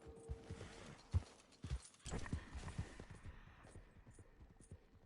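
Hooves of a horse in a video game clop along at a walking rhythm, low thuds repeating under a soft mechanical hum and creaks, fairly close and clear.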